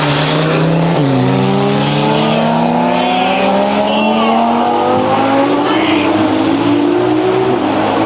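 A 2009 Nissan GT-R and a 2022 Audi R8 drag racing side by side at a TX2K event, engines screaming loudly as they rise through gears in steady upward sweeps, with crowd noise and a commentator's voice mixed in.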